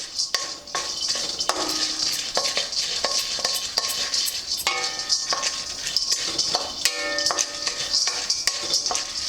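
Roasted gram dry roasting in a pan, with a steady dry rattling scrape and repeated light clinks of a utensil against the metal, sharp ticking strokes that continue throughout at close range with no talk.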